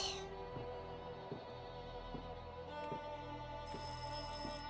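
A telephone rings inside a video game. The tone is faint and steady, sits under dense background music, and repeats at regular intervals with no talk over it.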